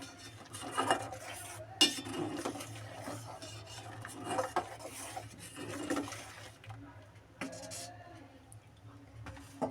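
Boiling milk with cardamom pods being stirred in a pot, a spoon scraping and clinking against the metal in an irregular rhythm, close and moderately loud over a steady low hum, with no talking.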